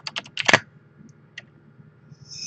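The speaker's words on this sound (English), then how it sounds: "a lot of times I'll just type in clearance" Quick bursts of keystrokes on a computer keyboard as a search is typed, with a dense cluster of clicks up front and a few isolated taps afterward, close and clear in a quiet room.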